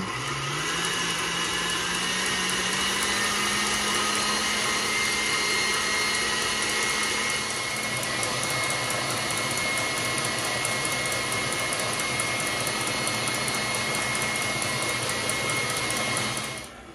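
An electric mixer on high whips egg whites to stiff peaks, a loud steady motor whine that revs up at the start and runs continuously, close by, then stops at the very end.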